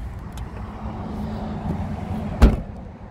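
Rear hatch of a 2014 GMC Acadia SLE-1 swung shut with a single solid thump near the end, heard against a low, steady outdoor rumble.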